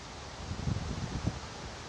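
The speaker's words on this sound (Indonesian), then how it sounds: "Kelima, cuaca berangin." Soft, steady wind blowing with gentle gusty swells and faint rustling, brief and fairly quiet.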